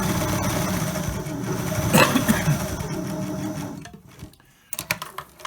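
A sewing machine runs a continuous stitching whir along a seam on a cloth mask, close and steady, then stops and gives way to a few light handling clicks and rustles.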